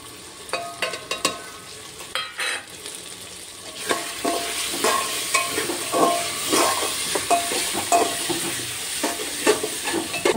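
Garlic-ginger paste sizzles and fries in a pan while a spoon stirs it, with steady hissing and irregular scraping strokes close up and no talking.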